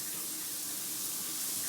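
A rain shower head in a newly built walk-in tiled shower pours steadily, a dense, even hiss of falling water filling the space without pause or voices.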